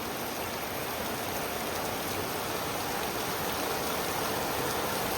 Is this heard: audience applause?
no